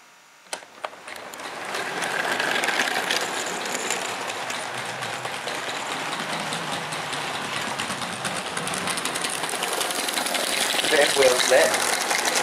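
A Heljan D9526 model diesel locomotive strains to pull ten coaches, its motor whirring steadily and rising toward the end as the wheels slip, with a couple of sharp clicks at the start and a voice talking over it.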